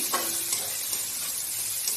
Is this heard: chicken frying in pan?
yes